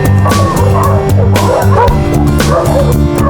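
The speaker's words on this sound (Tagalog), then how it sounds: "Pumasok sa rough road ang ending na puro aso." Several dogs bark and yip loudly and continuously, close by, with overlapping barks in a steady, agitated rhythm.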